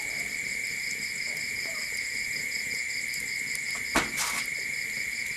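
Insects, given as grasshoppers, chirp in a steady, continuous high drone at night outside a workshop, with one brief louder knock partway through.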